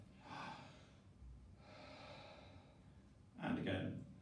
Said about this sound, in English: Some big breaths in and out your mouth.